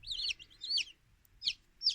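Newly hatched chicks peep inside an incubator in short high bursts, two longer runs then a pair of quick calls, close and clear with no talking.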